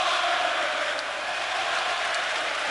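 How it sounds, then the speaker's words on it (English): A packed basketball arena crowd roars continuously during a 2007 Warriors vs Mavericks playoff game, a dense, loud wash of cheering with no letup. "Listen to this crowd."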